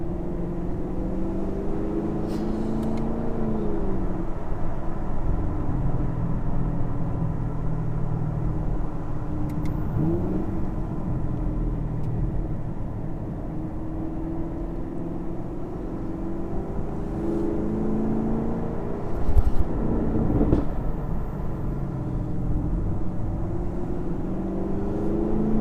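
A 2019 Chevrolet Camaro SS drives on US Highway 129, its engine droning loud and steady with exhaust tones rising and falling through gear changes and a brief louder surge near the end, no talking.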